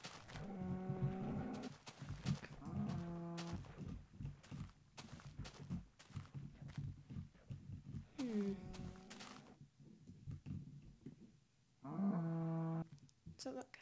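Several drawn-out, low bovine groans from a cow in the video game Minecraft repeat at intervals, with a person talking between and over them.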